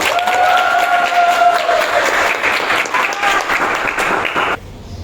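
Steady applause from an audience at a comedy podcast show, a loud dense clapping over about four and a half seconds with a few voices cheering inside it, then cutting off sharply to near quiet.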